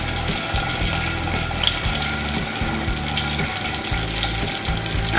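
Round bora fritters frying in hot oil, a steady close bubbling sizzle with a faint rhythmic low thumping underneath, no voices.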